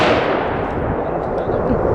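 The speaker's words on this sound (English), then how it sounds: "first shot." A SIG SG-551 carbine with a 16-inch barrel fires a single loud shot on a range, leaving a broad booming blast with a rolling echo tail.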